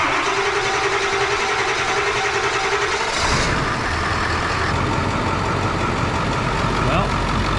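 Ford Powerstroke diesel truck engine, started after being sprayed with ether, cranking and then catching into a loud, steady rumbling idle that fills the clip.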